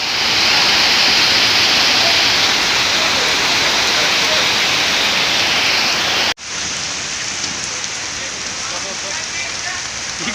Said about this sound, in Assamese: এয়া আহি থাকোঁতে পূৰা বৰষুণ দি দিলে